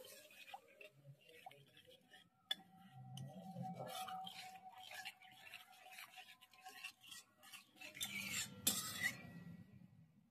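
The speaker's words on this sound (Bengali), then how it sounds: "মশলাটা ভালো করে মিশিয়ে নিয়েছি।" Spice paste mixed with water for a katla fish curry is stirred in a pan, with soft scraping and wet squelching strokes and occasional spoon clinks, fairly quiet, with faint talk in the background.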